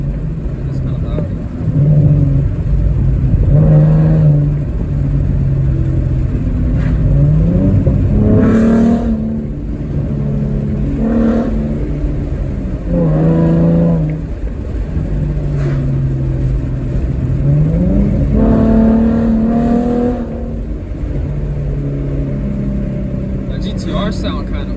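A loud car engine in third gear revs and accelerates in repeated surges, with the pitch climbing and falling several times over a constant rumble and occasional talk.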